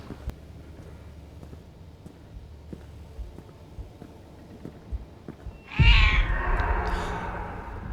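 A cat in the horror game Order 13, set in a warehouse, lets out one loud, drawn-out meow after several seconds of quiet ambience and faint clicks.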